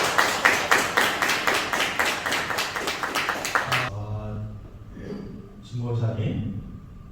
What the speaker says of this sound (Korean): 하나님께 영광의 박수.